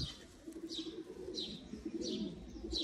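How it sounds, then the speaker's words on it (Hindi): Rare old Sialkoti breed pigeons cooing close by, soft low rolling coos with a few higher chirps repeating at a steady pace over a constant background hum, with no talking. "ये होते हैं जी नायाब दोस्तों कबूतर"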